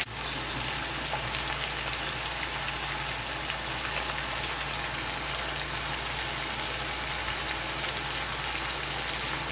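White wine bubbling and sizzling in a hot pan while the alcohol cooks off, for a gnocchi dish with pancetta and cream. The sizzle is steady and close and continuous throughout, with no voices.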